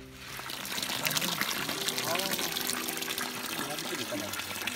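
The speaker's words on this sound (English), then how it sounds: "The very fresh water." Fresh water flows and splashes steadily on a farm, a continuous trickling gush that stays close and fairly quiet, with voices talking faintly over it.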